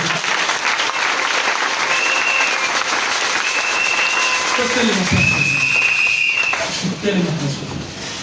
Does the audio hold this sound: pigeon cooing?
no